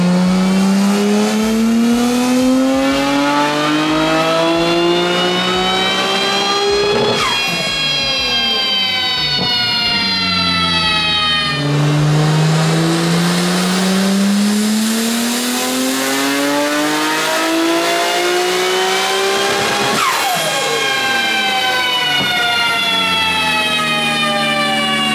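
A Nissan R34 GTR engine, tuned toward roughly 650 horsepower, screams through repeated loud, close full-throttle pulls, each rising in pitch before sharp drops between runs, with a ragged ignition breakup at the top.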